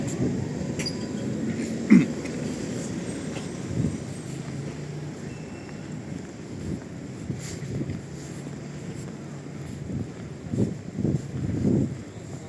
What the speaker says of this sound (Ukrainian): Такий трамвай.